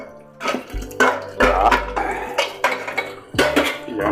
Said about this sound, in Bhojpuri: अब काम भर बर्तन हम मांजते नहीं।